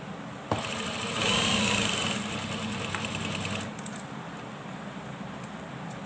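A sewing machine runs steadily, stitching the side seam of a kameez, with a loud close motor hum and whir that eases slightly partway through, then trails off into quieter background noise.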